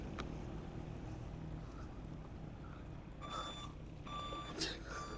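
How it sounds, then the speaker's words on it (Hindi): Heavy traffic jam on a foggy hillside road near Abbottabad, with a steady low rumble of idling engines and a truck's reversing beeps repeating clearly in the latter half, plus faint voices. "इसका मतलब कुछ तो है, ट्रैफिक जैम है, शदीद ट्रैफिक जैम है।"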